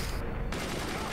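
Gunfire in the space-battle game Forts, a dense rattling fusillade of rapid shots with a brief dip partway through, loud and continuous over game noise.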